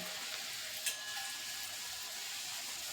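Puris frying in hot oil make a soft, even hiss with one faint tap partway through.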